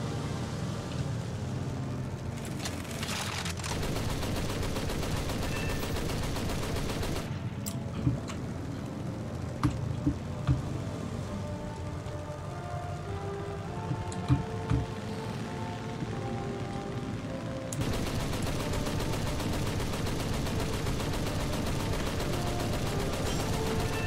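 Gunfire from aircraft in War Thunder, a steady dense rattle of weapons fire over continuous engine drone, with a few sharper shot transients in the middle and no talk.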